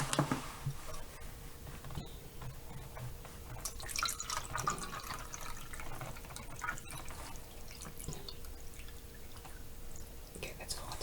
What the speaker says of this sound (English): we're going to fill the pyramid with water, and we're going to pour it into the cube